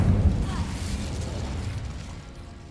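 A Bombarda spell blast in Hogwarts Legacy gives a single deep, booming burst up front that rolls off into a rumbling, fading tail.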